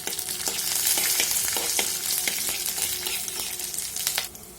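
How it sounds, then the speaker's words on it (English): Curry leaves crackle and sizzle loudly in hot oil in a pan alongside green chillies, a dense continuous frying hiss broken by repeated light stirring scrapes, close and steady until it quickly drops away at the end. "And we'll add some curry leaf and just stir it."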